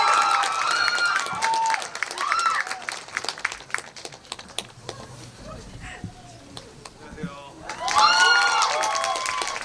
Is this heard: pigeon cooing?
no